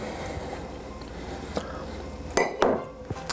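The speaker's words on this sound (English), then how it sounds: "So I want to just crush them up a little bit here." Nuts crushed for scones: quiet rustling and tapping, then a few sharp cracks and clinks near the end, close by and with no talking over them.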